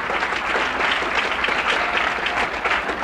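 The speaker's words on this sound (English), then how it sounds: "Would you give one more round of applause for our panel?" Audience applause for a discussion panel, a dense, steady clapping from a full room that holds at a constant level for about three seconds with no voices over it.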